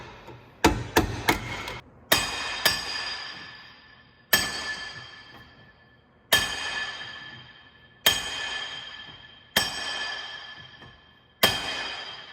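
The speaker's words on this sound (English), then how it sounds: "Maybe the reason Josh can't get it hammered in all the way is because he got welding splatter in there." Sharp metallic hammer blows on a part of a modified Smart car with a welded differential, first a quick cluster of strikes, then single heavy hits every couple of seconds, each ringing and fading out in a workshop.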